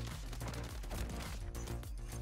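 Gunfire in the video game Modern Warfare 3, a dense, steady burst of rapid shots that stays loud and continuous throughout, with no pauses and no talk over it.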